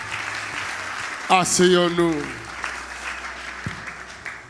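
A church congregation claps and cheers for Jesus at a Geneva worship gathering, with steady applause throughout and a voice briefly speaking over it in the middle.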